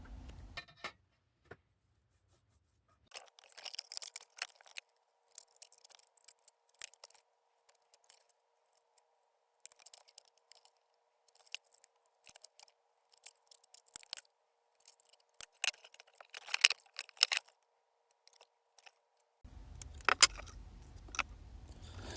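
Scissors snipping through a cardboard sheet while cutting out a whole section of a deck box build, with a series of quick, close, crisp cuts in irregular bursts and short pauses.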